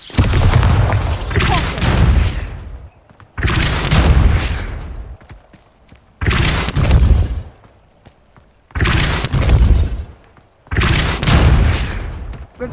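The Bombarda explosion spell in the video game Hogwarts Legacy goes off five times in a row, each a loud, booming blast with a rumbling tail, separated by short quiet gaps.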